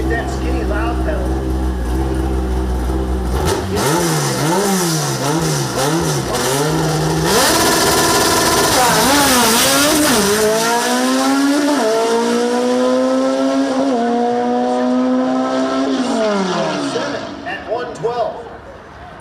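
A Volkswagen drag race car launches off the line and accelerates hard down the track, with the engine loud and close as it climbs through several rising gear pulls, each ending in an upshift, before fading out near the end.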